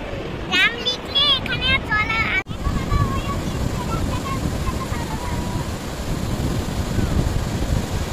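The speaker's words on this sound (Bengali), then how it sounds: "সমুদ্রের শব্দ যেন মনটাকে ছুঁয়ে যায়" Steady ocean surf at Bakkhali beach rushes and roars throughout, with a person talking briefly at the start before the waves continue on their own.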